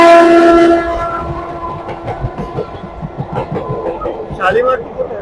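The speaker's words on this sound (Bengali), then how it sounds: "আমাদের ট্রেন পাঁশকুড়া জংশন ছেড়ে তার গন্তব্য দীঘার দিকে রওনা দিয়ে দিয়েছে" A local train bound for Digha sounds a horn at the start, then runs on with a rhythmic clickety-clack of wheels over rail joints and a steady rumble. It is loud and close.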